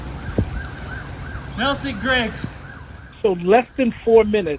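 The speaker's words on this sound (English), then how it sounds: "you could hear a siren in the background" A siren wails faintly in the background after a police shooting, a repeating rising-falling tone under louder speech.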